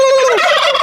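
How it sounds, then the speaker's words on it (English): An American turkey at an Australian wildlife care facility lets out a single loud, close gobble, a quick warbling rattle that drops in pitch and trails off within a second. "So these are all American turkeys."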